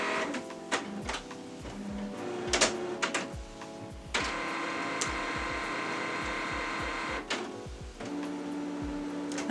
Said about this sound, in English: My printer is a bit of a diva,